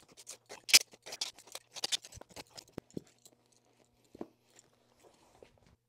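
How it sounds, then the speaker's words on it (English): Scissors snipping through carpet for stair treads, a quick run of close crisp crunching cuts followed by a few sparser snips and rustles. "So let's cut that carpet right now."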